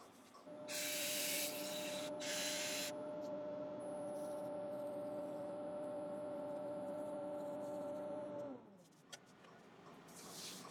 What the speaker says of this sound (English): Now that's the sanding all finished.